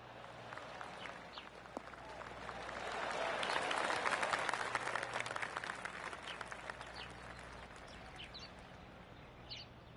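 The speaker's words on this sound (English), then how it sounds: "That's a golf clap right there." A small video game golf crowd in Golf 2K25 applauds politely, the clapping swelling gently in the middle and then tapering off into scattered claps.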